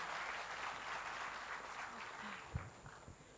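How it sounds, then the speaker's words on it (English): Audience at a blue economy summit in Bhubaneswar breaks into sustained applause, a broad even patter of clapping from a large crowd, with a few louder thumps near the end. "Let's welcome her with a huge round of applause."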